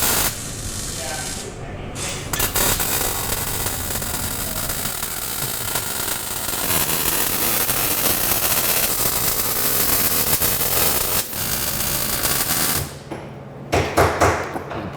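Flex MIG welder running a bead overhead on a rusted, hole-ridden exhaust pipe in a custom shop, a loud continuous crackling hiss lasting over ten seconds before stopping, followed by brief sputters.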